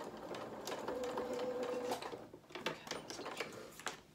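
A sewing machine reverse stitches along the edge of a small doll's jacket, giving quiet short bursts of rapid stitching with soft clicks and pauses, close and faint.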